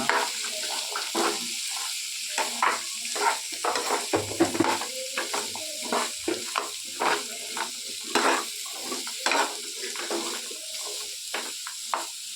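Cumin, turmeric, rock salt and other spices fry in a pan over a low flame: a soft sizzle broken by repeated scraping strokes of a spoon stirring, close by, with no talking.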